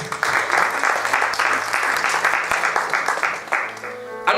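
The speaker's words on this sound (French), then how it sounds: "Est-ce qu'on peut acclamer pour le Seigneur?" A church congregation applauding for the Lord during a French-language service, steady dense clapping from many hands filling the room, fairly loud and continuous, with a voice briefly heard underneath.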